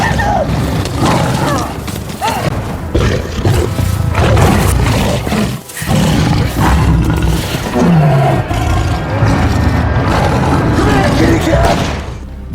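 A lion roars and snarls while attacking inside a house during a film scene. The roaring is loud and dense and mixes with music, effects and other film sound, with a sharp drop near the middle and a low rising growl after it.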